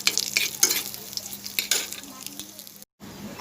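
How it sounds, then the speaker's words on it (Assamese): Fish pieces fry in a small amount of oil in a pan, a close, crackling sizzle with stirring scrapes that cuts out briefly near the end before resuming. "এইখিনি ভালদৰে কম পৰিমাণত ভাজি ল'ব"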